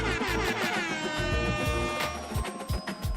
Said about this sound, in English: Air horns for you, good brother.